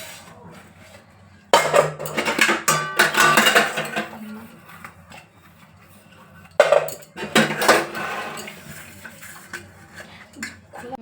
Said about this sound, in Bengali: যতই কাজ করো যতই করো বাসন ধুতেই হবে